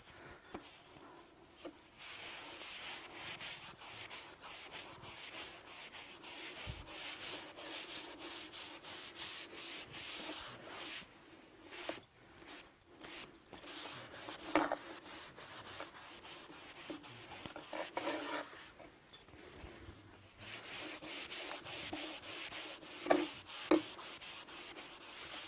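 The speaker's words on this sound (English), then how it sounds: "I'm going to take my clean cloth and wipe off the excess." A clean cloth wipes excess chalk paint off a piece of furniture, making quiet, close rubbing and swishing strokes that continue steadily with a soft background hiss.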